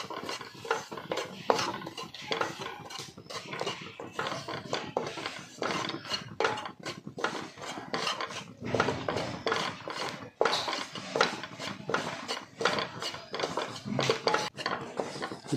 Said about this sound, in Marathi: त्यामध्ये पहिल्यांदा 1 वाटी बेसन पीठ जे घेतलं आहे ते घालायचं आहे व मंद आचेवर थोडंसं परतून घ्यायचं आहे 1-2 मिनटं.